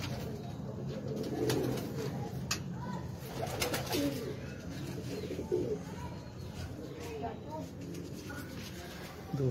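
Sialkoti pigeons coo repeatedly in soft, rolling calls close by, with someone talking over much of the clip.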